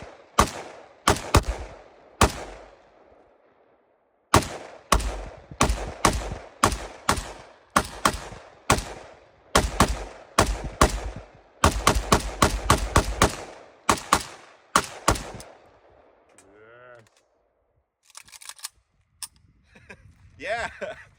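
A WBP Jack AK rifle firing 7.62x39 rounds outdoors, loud sharp shots in single and rapid bursts with short pauses between strings, followed by faint handling clicks and brief talk.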